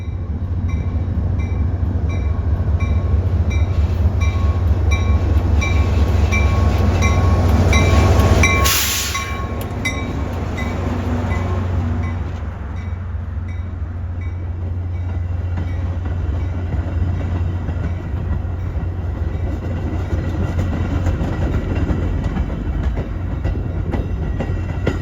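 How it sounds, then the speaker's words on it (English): A Metro commuter train led by MP36 locomotive number 401 rolls past in winter near Chicago, a loud close rumble with a steady low engine drone, a sharp burst midway, then continuing wheel and rail noise as the cars pass. "The first one we see is one of the Metro sets that will eventually become Heritage Corridor train number 915 to Joliet, Illinois."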